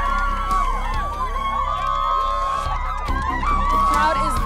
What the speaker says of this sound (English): The crowd is loving him.